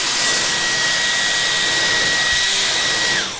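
A Flowbee vacuum haircut device set to turbo roars loud and steady with a high whine, then spins down at the very end, with no talking.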